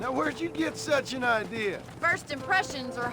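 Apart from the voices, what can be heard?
None of the usual background noises is heard.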